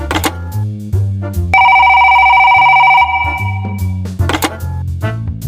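A telephone rings in one steady, sustained electronic tone lasting about a second and a half, set between stretches of rhythmic background music.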